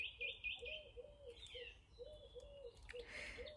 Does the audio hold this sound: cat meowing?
no